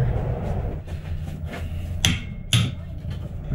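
A hammer drives a steering shaft extension through with light taps and then two sharp, loud metallic blows about half a second apart, heard close up in a workshop.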